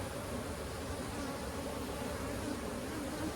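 Honey bees crowd a hive frame over larvae and pollen, humming as a dense, steady drone that stays close and even throughout, with no talk over it.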